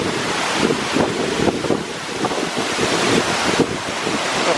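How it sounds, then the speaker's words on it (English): Roaring waterfall on a Spanish Pyrenees hiking trail, heard from right underneath it: a loud, steady broadband rush with gusting wind buffeting the microphone, no voices. "We're right underneath the waterfall. And the power is incredible."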